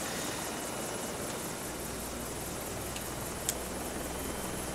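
A helicopter in a video game flies with a constant, close rotor and engine drone that holds steady throughout, with no talking.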